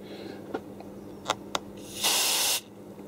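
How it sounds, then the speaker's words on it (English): A short, sharp hiss of contact cleaner spray bursts out for about half a second after a few light clicks, loud and close, aimed at the contacts of a Roberts R900 radio. "I'm going to spray these contacts with a bit of contact cleaner in here."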